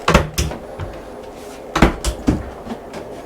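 A few sharp wooden knocks and clatters as a crockery drawer aboard a 2021 Sunseeker Predator 74 XPS yacht is pulled open and bumps shut, close by with no talking.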